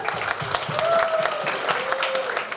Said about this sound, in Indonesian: Tepuk tangannya dong, TDA Kampus.